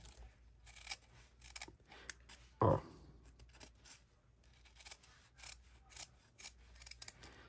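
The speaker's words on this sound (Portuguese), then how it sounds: "aí eu corto da forma que eu quero, tá? vou cortar aqui assim" Scissors snip ribbon for a hair bow in a series of soft, close cuts, with one louder crisp snap partway through, against a quiet room.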